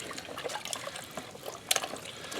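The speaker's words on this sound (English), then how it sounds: "take it over here to a rinse bucket that's just got regular clean water in it" Deer hide being rinsed in a bucket of clean water, with soft continuous trickling and sloshing and a few sharper splashes, close and fairly quiet.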